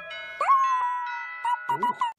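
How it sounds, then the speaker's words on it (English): Doorbell in a children's cartoon, a bright two-tone chime that rings out clearly with a lingering tone, then repeats in quick short notes, with a voice briefly over it. "Oh, that's the doorbell."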